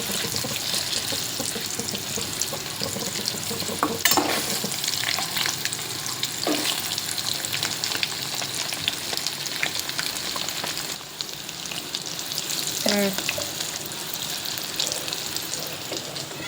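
Green chillies, cut and dropped into hot oil, fry with a steady dense sizzle and crackle, punctuated by a few sharp clinks of utensils and occasional stirring scrapes, with no talking.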